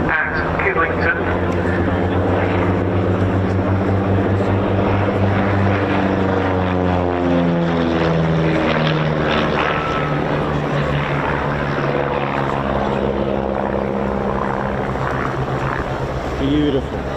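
A de Havilland Chipmunk propeller aircraft flies at the RAF Cosford air show, its buzzing engine drone shifting in pitch as it passes, with a commentator talking over it.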